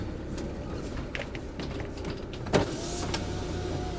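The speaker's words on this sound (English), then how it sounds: "that window noise" An electric car window hums as its motor runs, with a short mechanical clunk partway through, heard from inside the vehicle.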